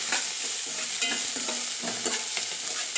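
Vegetables sizzle in a hot pan for foxtail millet kichidi while a spoon stirs them, with repeated scraping strokes over a constant frying hiss, close and without talk.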